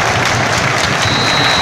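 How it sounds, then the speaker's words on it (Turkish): Loud, dense stadium crowd noise from Pro Evolution Soccer 6 fills the whole stretch, a continuous roar of cheering and clapping with no pauses and no commentary over it. "Tezahüratlardan sesimizi duymakta zorluk çekiyoruz açıkçası"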